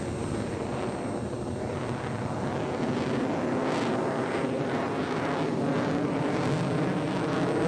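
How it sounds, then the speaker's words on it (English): F-22 afterburning fighter jet at a military airshow, a steady, loud, broad roar that holds for the whole stretch with no talking. "The F-22 is the only afterburning Western fighter capable of executing such a manoeuvre."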